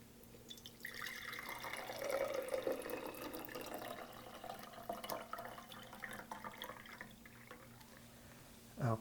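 Dirty, sediment-laden water pours steadily through a pre-filter into a jar, a continuous close trickling and splashing that swells in the middle and ends with a brief louder splash.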